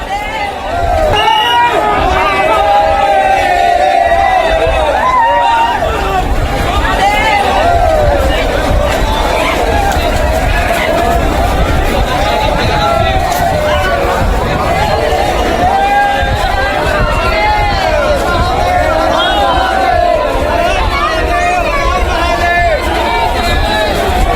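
A huge crowd of Shiva devotees packs Somnath temple, a loud, dense, continuous babble of many voices with shouts and chanting rising throughout, close and unbroken.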